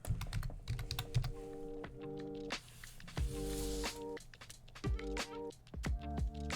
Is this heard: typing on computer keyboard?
yes